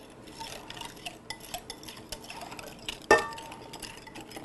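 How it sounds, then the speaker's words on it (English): A whisk scrapes a sweet vanilla mixture off the sides of a pan, making soft, rapid scratching and tapping strokes up close, broken by one sharp metallic clink of the whisk striking the pan rim. "take your whisk and get everything off the sides here"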